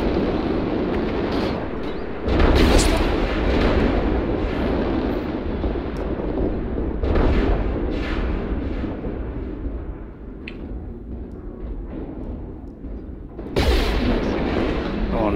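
Weapon fire from a Dervish mech in MechWarrior Online, bursts of loud booming shots at intervals over a steady rumbling background, with a sharp blast near the end.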